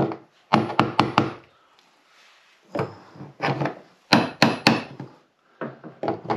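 Two hammers drive a part into place during Honda GoldWing GL 1800 fuel filter work: repeated blows on wood in bursts of quick knocks separated by short pauses, close and loud, with no talking.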